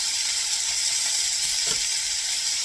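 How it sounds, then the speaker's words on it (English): Steady, loud sizzling of meat frying in a hot pan, a constant hiss with no talking. "I'm gonna fry my steak on medium high"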